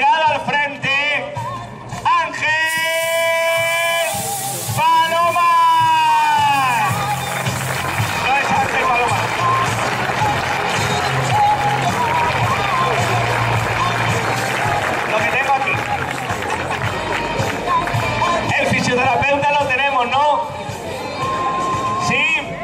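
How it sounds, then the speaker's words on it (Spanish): A crowd at a Segorbe football club's season team presentation applauds the senior team, sustained loud clapping and cheering with shouts and children's voices mixed in, close and continuous, while an announcer's amplified voice speaks over it at the start. "un fuerte aplauso para el equipo senior Viveros Mas de Valero"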